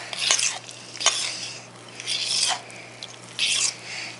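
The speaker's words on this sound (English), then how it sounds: "All right, let's give this a little stir." A spoon stirs ravioli filling with mozzarella cheese in a bowl, making close scraping and clinking strokes in uneven bursts, with quiet pauses between them.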